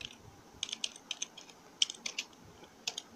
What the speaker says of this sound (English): You're gonna type in select volume 5.